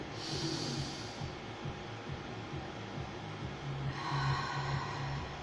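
A long, deep, breathy inhale during a calm breathing exercise: a steady airy rush that stays fairly quiet and close, with no talking.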